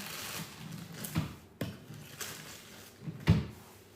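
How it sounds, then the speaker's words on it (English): Small cabinet door on a home fitness storage rack is opened and shut, giving a few soft, quiet clicks and thumps spaced over a few seconds against a faint room hush. "This goes in a little door over here."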